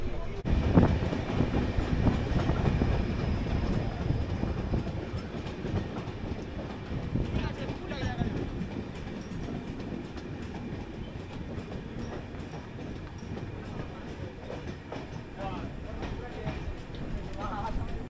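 A moving Shalimar–Puri weekly Super First Express passenger train rattles along between Kharagpur and Belda, a steady rumble with clickety-clack wheel rhythm heard from inside the coach, with voices talking over it.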